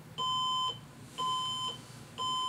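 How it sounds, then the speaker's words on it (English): Three identical electronic beeps from an HP Z440 workstation booting without a GPU, each about half a second long, evenly spaced about a second apart, fairly faint and alone. "when I tried to boot the Z440 without a GPU, it was not happy"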